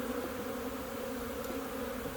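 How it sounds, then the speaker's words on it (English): Honeybees hum in a thick, unbroken drone around a hive opened up for inspection, the swarm noise constant and fairly close, no voices present. "Don't crush the bee."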